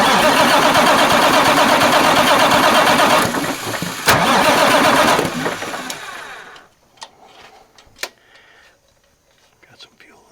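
A Marmon 57P Aero aircraft engine is cranked over by its starter, a loud churning rhythmic grind that cuts off after several seconds, leaving quiet clicks and faint knocks.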